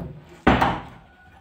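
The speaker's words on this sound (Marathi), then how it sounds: "दरवाजा लावते पाठीमागचा." A back door in a home swings shut with one solid wooden thud, loud and close, followed by a short fading resonance in a quiet room.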